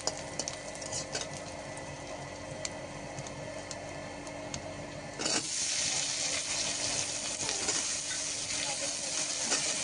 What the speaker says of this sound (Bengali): কলাটা তো দিয়ে দিয়েছি কড়াইতে। আর এবার পরিমাণ মতো নুন আর হলুদ দিয়ে একটু কষিয়ে নেব।